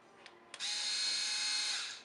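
An iRobot Looj gutter cleaning robot's auger starts up and spins with a steady, loud high-pitched motor whine after a couple of brief clicks, running for over a second before winding down.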